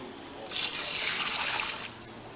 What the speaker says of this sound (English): now we're going to come down over here and pour this back into our bucket